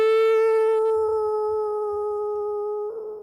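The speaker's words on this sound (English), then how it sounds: "howls fill the forest area." A wolf howl sound effect for a forest scene in a tabletop game: a single long, clear, sustained howl that slowly fades, with a faint low rumble beneath it.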